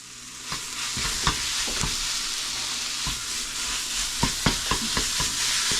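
Ground turkey frying in a pan, a steady sizzle broken by repeated scraping stirs of the spatula, close and fairly loud, with no talking.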